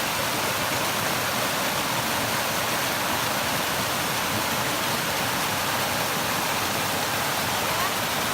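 Loud, steady rushing water fills the scene, a broad constant roar of a fast creek close by at a hiking water crossing in the Jennie Lakes Wilderness, with snow falling.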